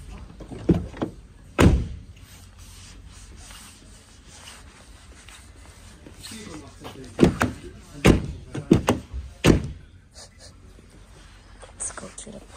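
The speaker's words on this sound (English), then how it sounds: "Door closing sound." Several thuds and thunks from a Dacia Sandero car door being shut, a handful of sharp knocks spaced over about twelve seconds with quiet rubbing sounds between them.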